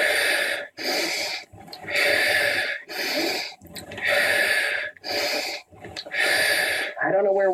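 Heavy, forceful breaths during semi-squat exercises, about seven loud rhythmic in-and-out bursts separated by short pauses, close to the listener.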